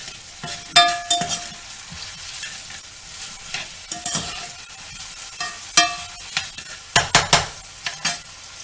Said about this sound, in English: onions. Let that saute for a little bit.